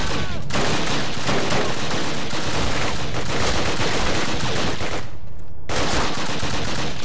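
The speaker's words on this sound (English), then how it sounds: "Hey, stop shooting at me." Dense, loud automatic gunfire from the video game Call of Duty rattles almost without break, rapid bursts overlapping with brief near-silent gaps near the start and toward the end, and no talking over it.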